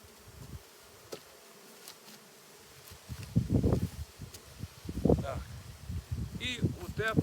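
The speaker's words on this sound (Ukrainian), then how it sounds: "Як бачите, бджоли себе поводять чудово." Honeybees buzz and hum around a beehive, with a steady drone, rustling and some close bursts of activity; a faint voice may be mixed in.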